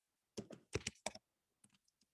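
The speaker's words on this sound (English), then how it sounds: "So I'm going to be typing because this is someone's IEP." Computer keyboard keys are struck in three quick bursts of clustered clicks, followed by a few lighter, sparser taps, close and crisp in a quiet room with no talking.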